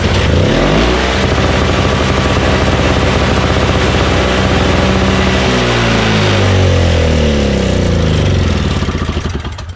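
A Craftsman 21-inch single-stage snowblower with a 5HP Tecumseh engine runs after a carburetor repair, with a loud, close, steady engine drone throughout that cuts off abruptly at the end.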